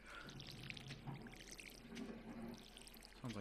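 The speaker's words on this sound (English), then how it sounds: "Sounds like water's turning on." Running water in the Stardew Valley video game, a steady pouring, trickling wash that holds through the whole moment at moderate level, with no one talking.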